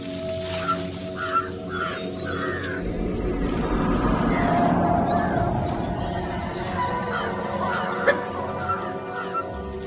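Wild animals in a jungle in Kabini give repeated alarm calls warning of wild dogs, a series of short distant cries over a steady forest background, with a person speaking throughout.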